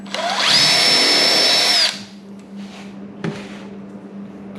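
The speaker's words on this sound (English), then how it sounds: "Go ahead and do a countersink." A power drill whines at high speed for about a second and a half while countersinking a hole in wood, then stops, leaving a low hum and a couple of faint knocks.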